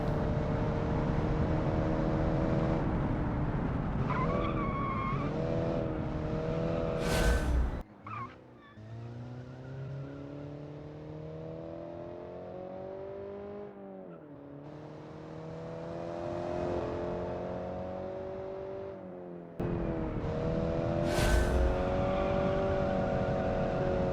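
Car engine in the racing game Automation, revving hard through rising and falling gear changes with brief tire squeal, dropping out suddenly near the middle before surging back loud and close for the finish dash.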